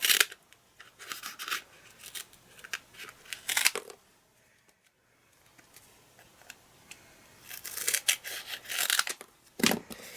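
Scissors snip through uncut adhesive foam dimensional sheets for card making, with quick crisp bursts of cuts, a quiet pause in the middle, then more rapid snipping close by.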